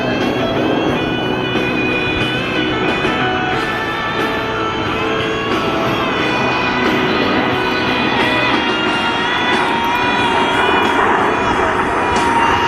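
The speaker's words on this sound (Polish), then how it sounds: "W dolnej figurze, w dolnym położeniu pętli samoloty osiągają prędkość 650 km na godzinę" PZL TS-11 Iskra jet trainers flying in Delta formation at the 2015 Radom air show, producing a loud, continuous, rough jet roar that stays steady throughout.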